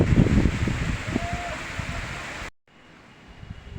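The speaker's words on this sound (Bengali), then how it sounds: "প্রচণ্ড পরিমাণে ঝড় হচ্ছে আর বৃষ্টি হালকা হালকা হচ্ছে" A windstorm with light rain: strong wind roars and rushes with a wash of rain-like hiss, loud and turbulent, then cuts abruptly to a quieter, steadier whoosh.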